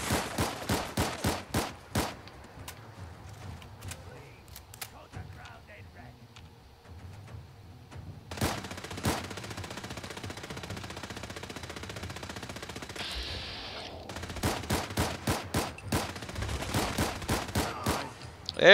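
Rapid bursts of gunfire from an inaccurate gun in modded Fallout 4, with clusters of loud close shots at the start, in the middle and toward the end, separated by quieter stretches of background game sound.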